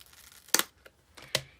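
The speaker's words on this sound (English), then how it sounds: "trim the ribbon down" Scissors trimming ribbon for a stamping craft project: two crisp, close snips about a second apart, with faint handling rustle between them.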